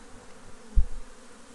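Honey bees buzz around an open beehive during an inspection, a steady low drone with a brief louder thump near the middle, heard close up without speech.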